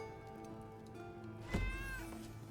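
A cat meows once in the video game Enshrouded, a clear rising-and-falling call over a steady background drone of game music, fairly close and moderately loud.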